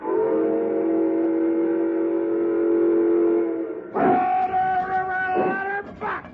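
A long, loud steam whistle blows steadily for several seconds, then cuts off and gives way to chuffing and shorter whistle bursts.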